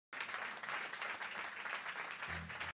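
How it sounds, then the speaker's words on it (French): Audience applause at a French award ceremony for a tourism tech competition: steady, dense clapping from a crowd, loud and continuous throughout, then stopping abruptly at the end. "On peut les applaudir, je vous en prie."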